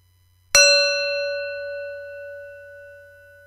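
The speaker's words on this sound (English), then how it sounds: "we'll listen to the sound of the bell" Meditation bell struck once, a clear close ding that rings out in a long, slowly fading tone, with no talking.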